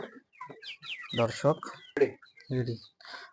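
Farm chickens cluck in close, repeated bursts, with a voice mixed in among the calls.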